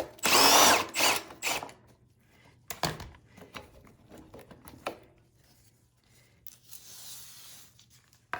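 While small-engine repair is done on a Hyper Tough lawn mower, a power tool whirs in short close bursts to remove the carburetor plate bolts, then fainter clicks and handling noises follow in a quiet room.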